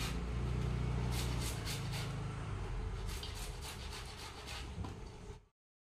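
Bamboo shoot is rubbed against a hand grater in a kitchen, giving repeated rasping strokes in a steady back-and-forth rhythm, close and fairly loud, before stopping abruptly.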